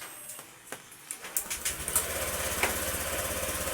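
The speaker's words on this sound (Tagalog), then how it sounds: "Tapos i-on na natin ulit yung ating motor at paanda rin ng 10 to 15 minutes." A motorcycle engine, running after an ECU and throttle position sensor reset, idles at low volume with a steady fast putter, broken by a few sharper bursts early on.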